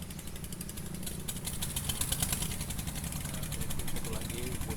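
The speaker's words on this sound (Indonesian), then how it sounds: "Satu lagi bot ikan sudah berangkat." A small fishing boat's engine putters rhythmically as it departs on the Krueng Aceh river in the morning, a steady faint chugging with a voice speaking over it.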